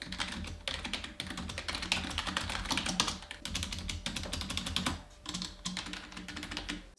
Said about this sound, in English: So here's a little typing test for you to hear what this keyboard kind of sounds like.